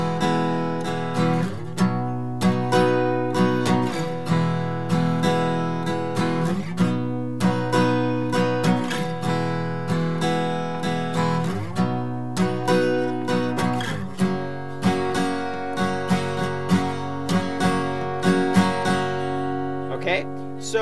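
An acoustic guitar strums the chords of a song in a simple, even pattern, up close and steady for about twenty seconds, with no talking over it.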